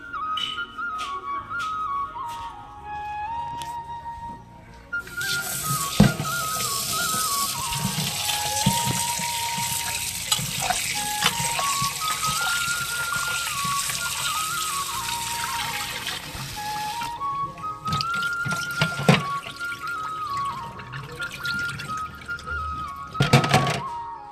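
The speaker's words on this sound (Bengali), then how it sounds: "চলো চালটাকে ধুয়ে নিই" Rice being washed in water in a home kitchen, with sloshing and trickling water throughout, a few sharp knocks and thunks, and faint tones in the background.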